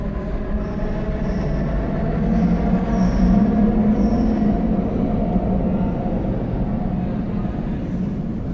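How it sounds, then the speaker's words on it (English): A London Underground train slowing as it nears a station, a loud continuous rumble of wheels on rails with faint squealing tones riding above, swelling slightly midway then easing steady, no voices. "The train was slowing up."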